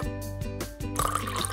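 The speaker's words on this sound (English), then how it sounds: "Fill the containers with vegetable oil." Vegetable oil glugs and trickles as it is poured into containers for a kids' science experiment, a close, steady liquid flow over a low music bed.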